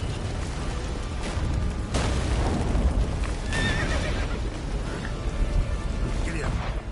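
Roach, Geralt's horse in The Witcher 3, neighs loudly over the rumble of galloping hooves, with rain and battle noise behind and a game voice speaking briefly during a fast chase.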